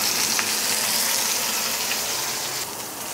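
Steak searing in a really hot pan, a loud, even hiss of sizzling fat that holds steady close up, easing slightly near the end.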